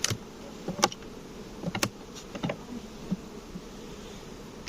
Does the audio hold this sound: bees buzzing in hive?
yes